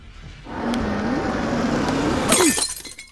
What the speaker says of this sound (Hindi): गाड़ी का शीशा भी तोड़ दिया